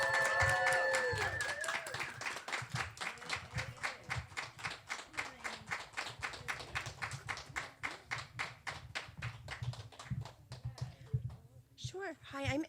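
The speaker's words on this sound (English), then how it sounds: "a round of applause for Aiden" Audience clapping at a World Poetry Day open mic for a nine-year-old poet, sharp individual claps coming in a quick, fairly regular patter from a small crowd, with a brief whistle-like tone at the start.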